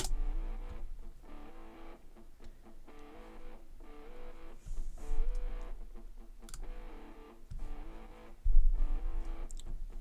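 Rhythmic electric guitar run through a Guitar Rig plugin and panned right, with bass cut, playing repeated chopped chords in a steady pattern for a techno track; moderately loud with accented hits, no talking.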